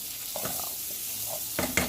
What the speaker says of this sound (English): So I'm going to deglaze my pan.